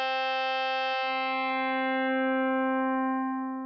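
Omnisphere synth tone run through waveshaping algorithm number 2, a steady, edgy sustained note rich in bright harmonics, held alone at even loudness and fading slightly at the end.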